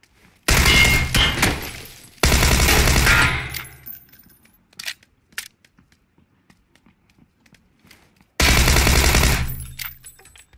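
Automatic gunfire in PUBG rips out in three loud, sustained bursts, two back to back early and one near the end, with faint clicks and footstep-like taps in the quiet gap between.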